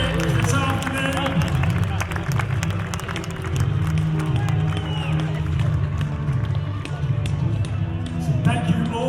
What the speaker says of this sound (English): Give them a cheer, ladies and gentlemen.